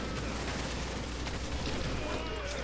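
Rapid gunfire and explosive bursts in the video game The Division, a dense continuous barrage over a low rumble, with players talking over the action.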